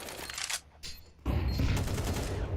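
Gunfire during a competitive Counter-Strike match, including a headshot: a few scattered shots, a brief lull, then a dense, loud volley of rapid gunfire that carries on to the end.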